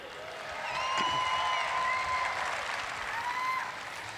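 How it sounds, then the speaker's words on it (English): A crowd at an outdoor woodchopping and sawing competition applauds the Australian team with steady, moderate clapping, joined by some whistles and cheering voices over the continuous applause. "How about one more big round of applause for the Aussies?"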